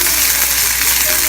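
Onions and green peppers fry in a pan with a loud, steady, close sizzling hiss that holds unbroken throughout the brief moment.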